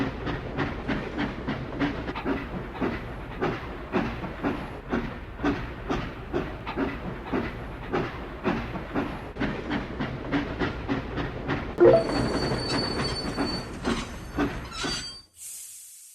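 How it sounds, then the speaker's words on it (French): A steam train picks up speed in a mobile train-building video game, with a rhythmic chuff and clatter and a whistle near the end before the sound cuts off. "Envoyons le train au dépôt. Déplacez la manette du conducteur vers la position extrême pour accélérer."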